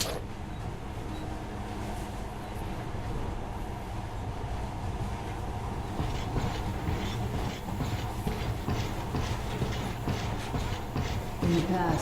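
Monorail train riding in the game Metro Last Light: a steady rolling rumble with rhythmic clickety-clack of the carriage, continuous and close, with a brief knock near the end.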